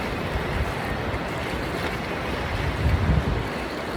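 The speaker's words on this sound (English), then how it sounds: "But I'm here at the beach." Ocean surf rolls onto the beach at Pismo Beach, a steady close wash of waves mixed with gusty wind buffeting the microphone and swelling slightly toward the end.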